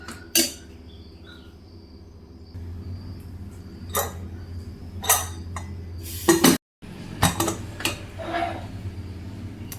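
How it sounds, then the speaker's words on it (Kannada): Metal pot and pressure cooker lid handling over brinjal pulao: scattered clinks and taps, then a louder clattering clank as the lid closes, close up and without talk. "ಇದಕ್ಕೆ ಲಿಡ್ಡನ್ನು ಕ್ಲೋಸ್ ಮಾಡೋಣ"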